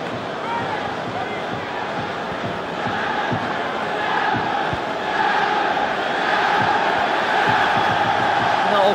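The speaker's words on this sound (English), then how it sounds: "Certainly got the crowd going that one" Football crowd at a Celtic v Dundee United match, a broad roar of thousands of voices that swells steadily louder over several seconds, with scattered shouts in the noisy mass.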